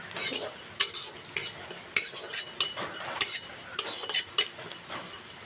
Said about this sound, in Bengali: জিরে ভেজে নিচ্ছি।